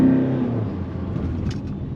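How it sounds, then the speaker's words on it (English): A 2022 Tata Safari diesel engine pulls hard at full throttle, a deep droning rumble heard from inside the cabin that rises briefly and then settles into a steady hum. "Diesel engine, it's torquey on full throttle."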